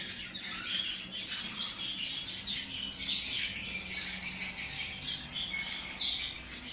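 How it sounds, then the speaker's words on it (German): Canaries and parrots at a spot in downtown Chisinau, Moldova, chirping and squawking continuously in a dense overlapping chorus of bright tweets and calls, with no talk over it. "Kanaren und Papageien."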